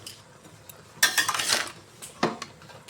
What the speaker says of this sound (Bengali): এবার আমি এটা কষিয়ে নিব